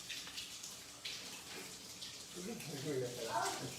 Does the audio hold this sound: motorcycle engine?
no